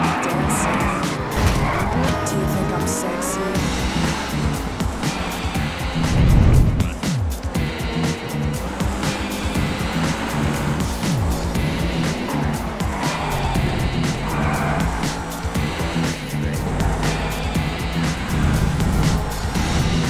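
Race cars in the GTV8 Kerburator GP roar along the track with tire squeal and skidding as one spins out on a right turn, dense engine noise throughout and a louder surge near the middle.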